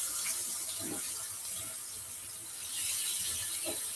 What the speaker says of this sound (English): I'm going to turn on my water so it can get hot so I can wash my hands